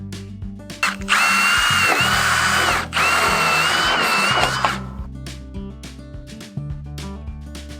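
A power drill bores out pop rivets on an old guttering during a cottage renovation, with two loud, close bursts of whining drilling followed by quieter clinks and handling sounds.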